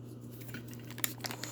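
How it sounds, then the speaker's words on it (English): Paper wrapper torn and peeled off a softened stick of butter, a few faint crinkles and soft tearing rustles close by over a low steady hum, ending in a couple of sharper crackles. "I have my stick of butter that I'm going to unwrap here"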